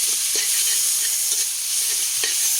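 Fried rice with two eggs frying in a pan over a wood fire, a steady close sizzle broken by brief scraping knocks of stirring.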